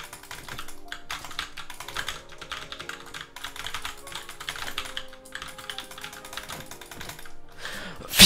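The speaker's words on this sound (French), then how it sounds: "allez, le clavier." Rapid, steady typing on a new, not-yet-released computer keyboard during a gaming session, dense clicking keystrokes close and fairly quiet, with a brief loud knock at the very end.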